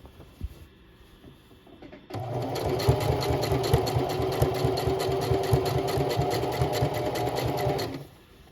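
After a couple of quiet seconds with a faint knock, a sewing machine runs steadily for about six seconds, a close, rapid mechanical whir and needle clatter stitching a fabric slouchy tote bag, then stops.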